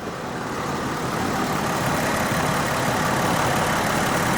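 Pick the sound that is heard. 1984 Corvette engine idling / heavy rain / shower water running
1984 Corvette engine idling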